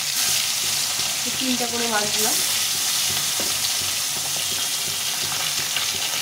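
Tilapia fish frying in white oil gives a steady, close sizzle with occasional stirring scrapes; a voice speaks briefly over the cooking.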